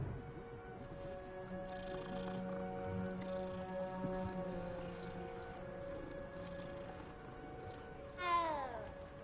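Cat meowing in Hogwarts Legacy, a short meow near the end over steady game music and ambience.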